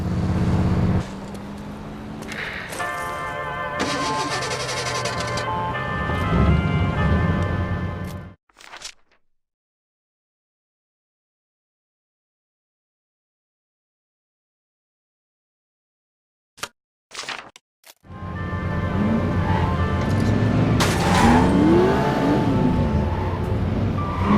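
Car engine driving in The Saboteur: a loud steady motor drone with shifting tones, cutting to near silence for several seconds before the engine noise returns just as loud, no talk.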